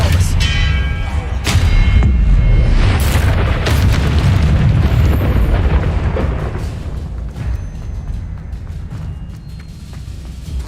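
Confringo fire spells burst in Hogwarts Legacy as a dense run of heavy booms and blasts, loud and continuous, with sharp cracks over a deep rumbling low end and a voice now and then.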